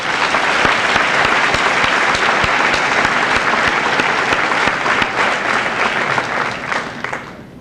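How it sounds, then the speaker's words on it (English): Sustained applause from a high school assembly audience for the underclassmen, dense and steady throughout before tapering off at the very end, with no talking over it. "let's give the underclassmen a nice round of applause"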